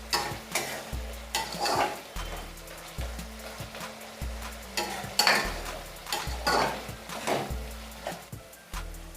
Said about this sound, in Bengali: মশলা ভাজার সাথে মাছের মাথাগুলো দিয়ে দিলাম।